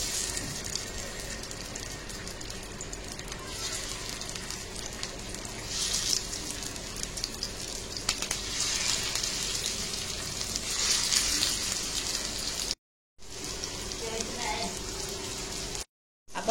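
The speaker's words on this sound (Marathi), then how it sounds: "आता आपण चिकन फ्राय करून घेऊया" Chicken pieces fry in about two ladles of oil on a flat iron griddle over a gas flame, giving a steady, fairly quiet crackling sizzle throughout, broken by two brief moments of silence near the end.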